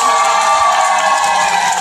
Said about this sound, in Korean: 함께 축하박수